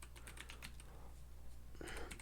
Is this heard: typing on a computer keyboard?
yes